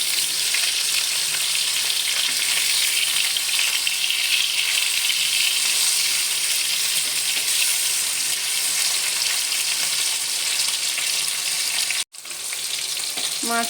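Hilsa pieces fry lightly in hot mustard oil with a dense, continuous close-up sizzle and crackle, steady throughout apart from one sharp momentary break near the end.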